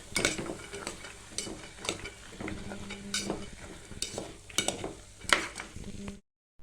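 Green field beans frying in oil in a pan for masala curry, stirred with a spoon that scrapes and clinks against the metal over a steady soft sizzle, close and fairly quiet.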